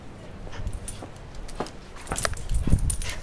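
A dog whimpers and whines in short, uneven bursts close by, with some scuffling and a louder rustling, thumping stretch toward the end.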